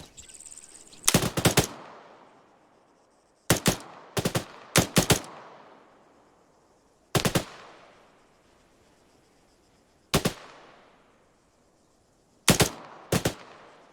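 Bursts of machine gun fire in the video game ARMA III, several loud short volleys spaced a few seconds apart, each trailing off into a long echoing decay with no talking.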